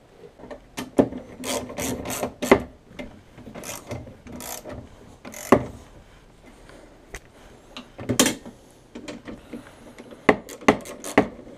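Bolts being tightened with a ratchet while fitting a winch to a 2015 Honda TRX420 Rancher ATV, giving irregular bursts of clicking and metallic clatter that come close and fairly loud amid quieter handling noises.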